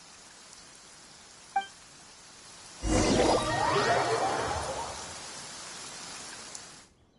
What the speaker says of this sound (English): The sound of the rain scares them away, but once it stops, they're yours for the taking.